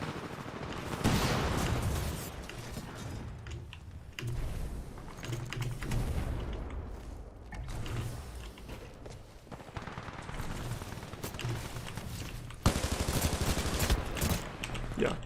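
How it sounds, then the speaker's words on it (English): Sustained SMG gunfire in a shooter video game, steady rapid bursts running almost the whole time with brief gaps, moderately loud, mixed with fast keyboard clatter. "Maybe I shouldn't use an SMG from this range."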